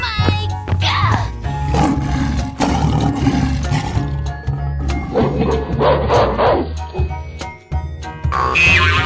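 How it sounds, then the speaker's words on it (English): A tiger roars in a 3D animal slide video game, loud growling calls repeated over busy game music and sound effects, with brief talk mixed in. "Tiger."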